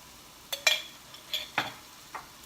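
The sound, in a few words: stirring Dijon mustard into steak Diane sauce in a pan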